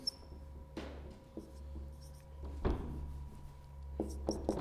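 Chalk or marker writing on a board during a physics lesson, a series of scratchy strokes and taps at varying intervals over a low steady hum, fairly quiet and close.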